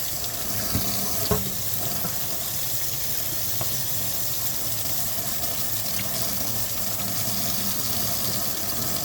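Very warm water runs steadily from a tap into a sink, a continuous close splashing rush with a couple of small knocks near the start and no talking.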